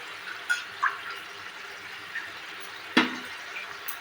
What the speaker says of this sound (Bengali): এই বাটিটার প্রথমে আমি সর্ষে গলা জল 1 বাটি আর এমনি জল 2 বাটি দিলাম।